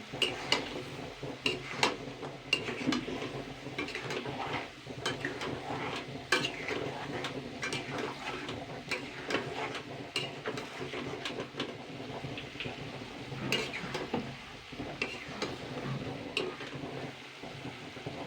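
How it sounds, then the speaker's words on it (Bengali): Chicken curry with masala is stirred and sautéed in a pan, giving repeated scraping and clinking of the spoon against metal over a soft sizzle. The sound is moderately quiet and close. "এবার আমি এগুলোকে দিয়ে ভালো করে আবারও কষাবো তিন মিনিট মতো"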